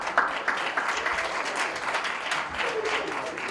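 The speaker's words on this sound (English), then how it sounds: "Let's give them one more round of applause." An audience gives a speaker a sustained round of applause, dense clapping from a large crowd filling the hall at an even, steady level throughout.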